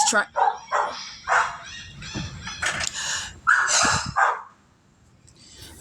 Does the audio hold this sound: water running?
no